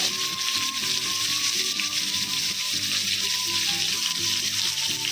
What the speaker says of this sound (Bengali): মাছগুলো খুব কড়া করে ভাজবো না হালকা করে ভেজে তুলে নেব